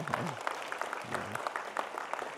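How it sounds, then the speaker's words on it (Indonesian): Audience applause at an event on ancestral religions and belief communities, a soft, steady patter of clapping with a voice speaking over it at moderate level. "kita beri tepuk yang meriah sekali"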